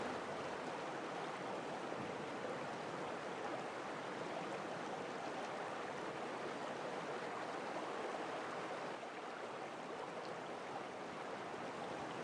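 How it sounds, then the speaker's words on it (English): Water rushing through an underground qanat channel in Yazd, Iran, a constant broadband flowing hiss that stays faint and even throughout, with no voices. "So this is, of course, a qanat."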